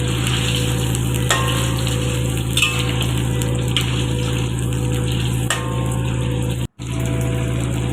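Tofu frying in hot oil gives a steady, continuous sizzle with a few sharper crackles, close and even throughout, with no one speaking.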